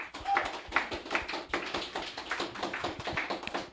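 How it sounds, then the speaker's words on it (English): An indoor audience at a fireside talk on early-stage investment applauds. Many hands clap densely and fairly loudly for several seconds. "Round of applause here for everybody."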